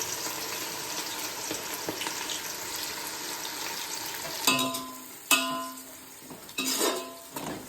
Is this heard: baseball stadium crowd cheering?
no